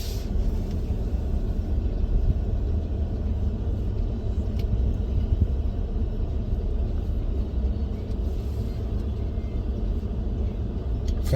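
Engine and road rumble from inside a lifted 2017 Ford F150 XLT 4WD crew cab pickup on a test drive, a steady, loud low-frequency drone with tyre noise throughout, no talking.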